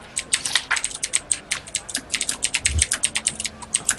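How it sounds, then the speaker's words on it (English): Rapid, uneven clatter of keys on a computer keyboard, typed steadily and close by during an online tabletop role-playing session, with only brief pauses and no talking over it. "I hear a lot of typing."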